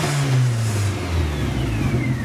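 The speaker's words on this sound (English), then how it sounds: "As I increase the engine speed, and at 3000 rpm, you're seeing up 5 bar" A Lotus Elan M100 engine with a faulty oil pressure gauge revs steadily at close range, its mid-pitched drone climbing slightly in tone with no talking over it.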